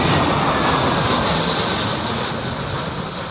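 A plane lands at Heathrow airport during Storm Isha, its engine roar a broad, steady rush close by. The sound is loud and sustained and fades slightly toward the end, mixed with wind noise.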